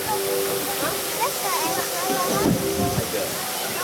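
A steady rush of falling water from a tall man-made waterfall inside the African Waterfall Aviary at Singapore's Bird Park fills the scene, with a voice speaking over it throughout.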